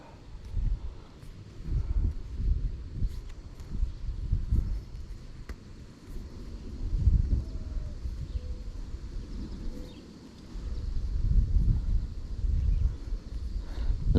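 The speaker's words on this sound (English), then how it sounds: "This wind is making it tough to tell if I'm getting bites or not" Gusty wind buffeting the microphone beside a lake with cattail weeds while fishing, low rumbling surges rising and falling in waves across the whole stretch, with no talking.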